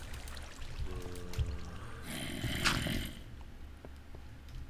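Water flows and trickles steadily in the Minecraft video game inside an abandoned mineshaft, a soft continuous wash with brief swells and a few faint game sounds over the top.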